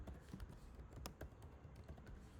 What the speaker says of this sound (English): So I type in my name, I type in